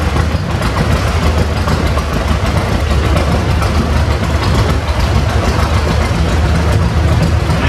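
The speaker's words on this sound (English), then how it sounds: "1937 John Deere A, owned and operated by Jim Nicholson of Atlanta" A 1937 John Deere A tractor engine runs in a parade at the Midwest Old Threshers Reunion in Mount Pleasant, Iowa, giving a steady, close, continuous low drone with no voices.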